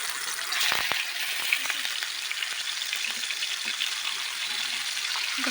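Mutton kebabs fry in a pan with a continuous close sizzle, broken by occasional crackles and a few brief stirring knocks, with no one talking.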